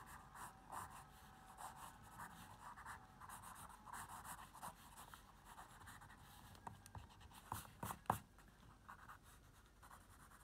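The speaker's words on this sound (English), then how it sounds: "shading in pencil will help it look good" Continuous scratchy rubbing of pencil on paper, steady back-and-forth strokes with a few sharper scrapes near the end, close up and alone.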